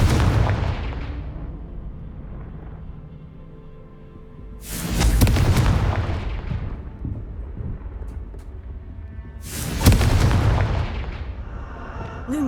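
Three heavy booms from the Confringo explosion spell in Hogwarts Legacy hit several seconds apart. Each one rumbles and then trails off in a long decaying roar.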